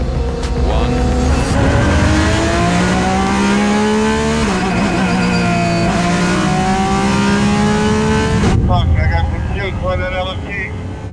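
Race car accelerating hard at Le Mans as a full course yellow ends, a loud engine note climbing through successive gear shifts, then the roar cutting off abruptly near the end, heard from close by.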